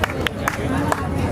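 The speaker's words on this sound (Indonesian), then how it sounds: "Tepuk tangan ini." A crowd claps at a school reunion gathering, sharp rhythmic claps mixed with chatter and voices talking over the noise in a brief burst.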